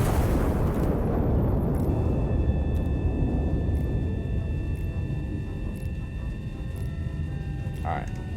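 Artillery piece firing in the tactical artillery game Iron Nest: a loud opening boom with a long rumbling decay that fades into a steady low background hum, with faint clicks and a short tone near the end.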